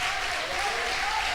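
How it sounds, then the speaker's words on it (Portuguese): Church congregation applauding together, a dense, continuous wash of clapping at close range with no clear speech over it. "Vamos aplaudir o nome do Senhor"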